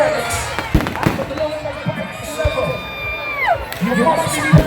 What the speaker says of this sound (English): For fireworks,